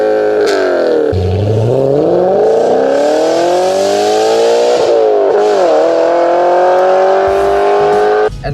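A car fitted with a titanium straight-pipe exhaust revs hard and loudly, with the engine note rising and falling in long sweeping pulls, close up and with no talking.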